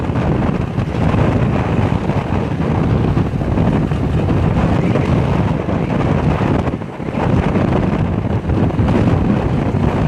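A strong headwind roars into the microphone during a cycling race, a loud continuous broadband buffeting that barely lets up for the whole stretch, with no voices heard.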